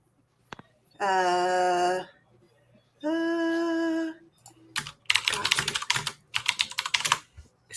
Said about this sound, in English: Y'all are gonna hear me type.